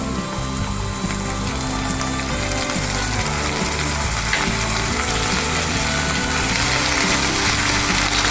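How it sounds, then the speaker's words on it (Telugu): Onions and ginger paste fry in oil for a fenugreek leaf egg curry, giving a dense, constant sizzle close to the pan with occasional stirring and clinks. "ఉల్లిపాయలు బ్రౌన్ కలర్ వచ్చేదాకా వేయించుకున్నాం"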